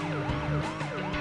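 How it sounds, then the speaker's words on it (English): Police siren in the Beach Buggy Racing mobile game, a loud wailing tone sweeping up and down in repeated cycles over steady game engine and music sounds, with no talking. "What's that siren? Oh, it's another cop thingy."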